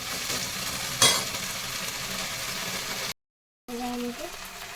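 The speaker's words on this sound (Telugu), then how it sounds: "దీన్ని పుదీనాకు కొంచెం ఫ్రై చేసుకోవాలండి. చక్కగా మొత్తం వేగిపోయేలాగా తిప్పుకోవాలి." Mint leaves fry in a pan for mint chutney while being stirred, making a close, steady sizzle with a sharp clink near the start, a brief silent gap, and a voice speaking briefly near the end.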